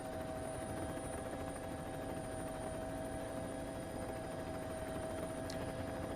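A helicopter hovers over a WRC rally stage in Latvia, heard as a steady, distant rotor drone with a constant engine whine, faint and unbroken for about six seconds.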